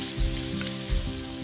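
Pounded ginger and garlic with spices frying in hot oil in a pan, a steady close sizzle with a couple of brief louder bursts as the food is stirred.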